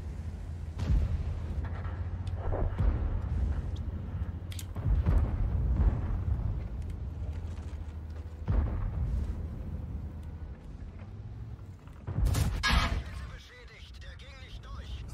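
Heavy booming tank cannon shots from the E 100 in a game, several spaced blasts over a low engine rumble, with some talk in between.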